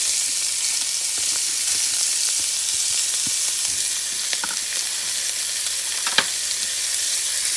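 Onions fry for sofrito in a hot pan beside braising beef neck bones, giving a steady close sizzle with occasional scrapes and light clinks of a utensil. One sharp knock sounds near the end, and no one speaks.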